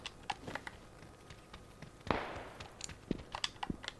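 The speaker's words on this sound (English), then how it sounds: "I'm hearing some shots kind of close to us." Scattered gunshots crack in PUBG, with one sharper, louder report in the middle, amid faint in-game clicks and movement sounds.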